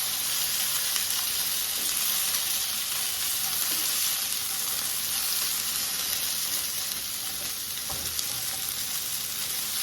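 Chorizo and crispy potatoes fry in a pan, giving a dense, steady sizzle with faint crackles and occasional stirring scrapes, close up and continuous.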